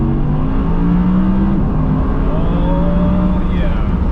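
An Audi R8 V10 sports car roars steadily, loud and close from inside, its engine note climbing in pitch as it pulls hard toward the end.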